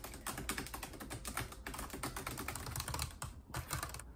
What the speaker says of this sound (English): Type loudly on your keyboard with a serious face.